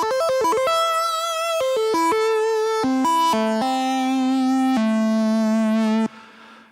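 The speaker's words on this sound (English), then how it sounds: "some sort of guitar-y, synthy lead sounds" A gritty, guitar-like synth lead from a Studiologic Sledge synthesizer with synced oscillators plays a melodic line with sliding, swept overtones, bending notes up and down before a final held note cuts off.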